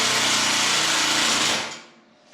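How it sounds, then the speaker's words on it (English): A power drill drives a screw into a threaded rack adapter, whirring loudly and steadily for over a second, then winds down and fades out. "I get the drill ready for it, and then get it on the thread"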